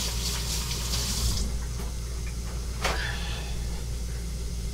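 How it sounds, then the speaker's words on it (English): Tap water runs steadily into a kitchen sink during hand washing, a continuous close hiss and splash with a brief brighter gush early on and no talking over it. "Wash our hands real quick."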